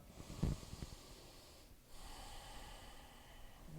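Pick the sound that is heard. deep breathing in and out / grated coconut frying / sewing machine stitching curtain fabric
deep breathing in and out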